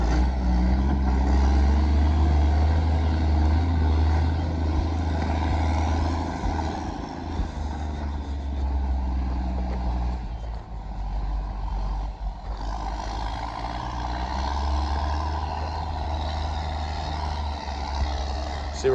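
Log skidder at work nearby at a logging site, a heavy diesel engine drone with deep low rumble that dips briefly midway and then resumes steady and fairly close.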